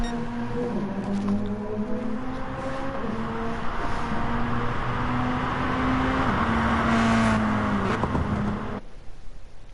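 Race cars in a rallycross video game event roar around Tsukuba Circuit, with engines droning and shifting pitch as they accelerate, loud and continuous before cutting off abruptly near the end.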